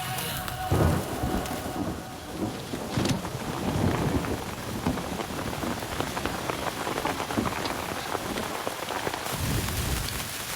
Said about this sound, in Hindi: हाँ यहाँ पर बारिश हो रही है